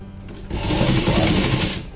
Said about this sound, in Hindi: बाहर से हम इसके ऊपर एक प्रेस सिलाई या आप उसको दाब सिलाई बोलते हो तो दाब सिलाई लगा देंगे